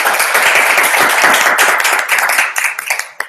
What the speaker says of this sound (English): We applaud here a lot.